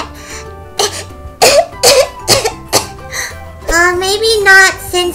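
A voice imitates a sick child coughing, giving several short, loud, raspy coughs and throat clearing near the mic. Childlike speaking follows.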